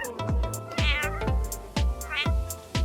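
A cat meows loudly and repeatedly at close range, several drawn-out calls in quick succession, with a faint voice in the background.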